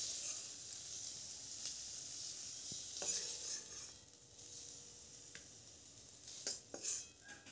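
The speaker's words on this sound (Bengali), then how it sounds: "আর একটু তেল দিয়ে এবার আমি ভেজে নিচ্ছি ফুলকপিটা" Steamed cauliflower frying in oil in a kadai, a soft steady sizzle throughout with a few light clinks of a utensil, quiet and close with no talk.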